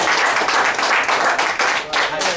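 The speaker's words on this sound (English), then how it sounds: "let's give him a big round of applause" A crowd at a state house campaign event claps loudly and densely for the featured speaker. The applause is close and sustained for over two seconds, and a voice may be mixed in.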